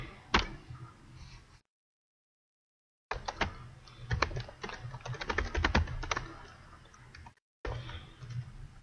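Computer keyboard clicking as a line of code is typed, rapid close keystrokes in uneven bursts broken by two short silent gaps, with no talk.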